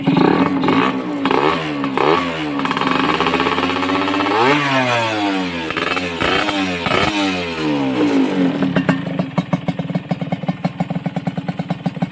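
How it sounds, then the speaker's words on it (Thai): A Honda LS125 motorcycle fitted with an aftermarket exhaust revs up hard several times. The engine note rises and falls in repeated sweeping pulls, then drops into a rough, clattering rhythm near the end. "ชัดแจ๋วนะครับเสียงเครื่อง"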